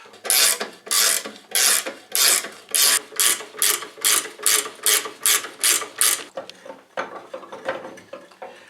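A coil spring compressor being tightened on a VW Golf front strut spring gives about a dozen rhythmic ratcheting clicks, loud and close, then softer scattered clicks and scrapes as the spring loosens.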